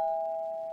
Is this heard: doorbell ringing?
yes